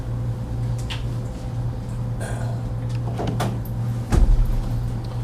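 A door being shut in a room before a press conference, with a low steady hum and faint shuffling, then a single thud near the end.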